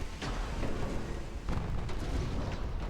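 Heavy naval gunfire in a warship video game, with 4.5-inch guns firing: loud, close booming blasts, two main shots roughly a second apart with rumbling tails, and no talking.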